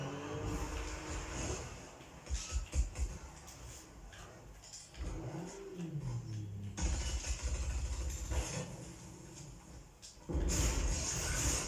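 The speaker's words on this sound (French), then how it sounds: "Alors moi j'ai envie de tester, c'est la nouvelle moto." Fortnite's new motorbike engine starts and revs in bursts, with a pitch sweep partway through and loud sustained roars later, interrupted by game effects.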